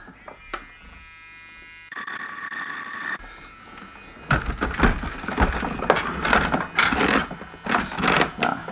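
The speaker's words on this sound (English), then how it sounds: "Let's try cleaning that up with a little grinding pen here" A small handheld grinding pen buzzes in short bursts against corroded battery contacts on a vintage toy, its high whine stopping and starting, close and fairly loud.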